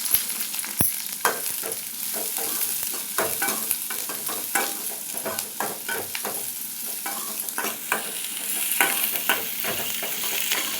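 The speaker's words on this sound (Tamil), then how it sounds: "வெங்காயம் சேர்த்து நல்லா வதக்கி விடணும்." Onions sautéing with mustard seeds and curry leaves in a pan, a steady sizzle broken by repeated scraping stir strokes, close and fairly loud with no talk.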